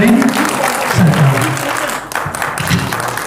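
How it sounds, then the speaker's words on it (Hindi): An audience claps loudly at a film honour ceremony held by a Bihar government arts minister, a dense burst of applause that swells and carries on, with a voice speaking over the clapping. "एक बार जोरदार ताली से स्वागत करें सरकार"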